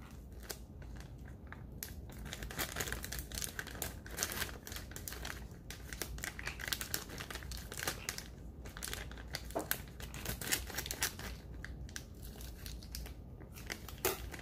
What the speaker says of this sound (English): Then you will carefully cut this with some scissors.